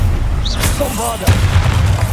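A Bombarda spell explodes in the video game Hogwarts Legacy, a loud booming blast arriving partway through amid dense game noise and a spoken voice.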